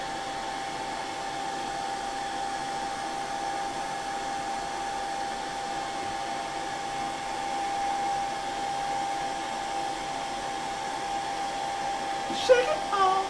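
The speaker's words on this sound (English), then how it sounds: "Hairdryer's the best." A hair dryer blows steadily to dry paint on a miniature, a constant close whooshing drone with a faint tonal hum that holds unchanged throughout, ending with a few small knocks.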